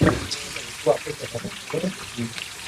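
Chillies frying in hot oil give a steady, soft sizzle that sits under a person talking throughout, with a few brief clinks and stirs near the start.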